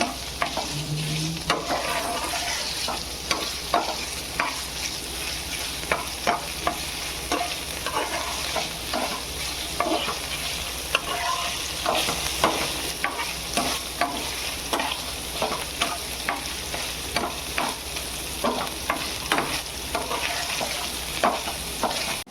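Paneer cubes shallow-frying in a little oil in a pan, a continuous close sizzle broken by frequent clinks and scrapes of a spatula stirring, with no voices.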